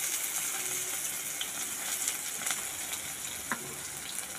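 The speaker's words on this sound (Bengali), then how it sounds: "এখানে দেখো আমি পেঁয়াজ কুচি দিয়ে দিচ্ছি" Chopped onions frying in a kadai, a dense steady hiss of oil sizzle with a few faint clinks, close and fairly even, no voices.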